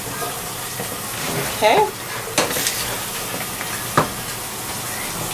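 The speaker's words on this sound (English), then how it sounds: "So now I'm adding my onions and pepper, and I'm going to continue to stir it." Onions and peppers sizzle in a small pan while a utensil scrapes and stirs them, giving a hissing bed broken by a few brief clacks; a voice speaks briefly over it.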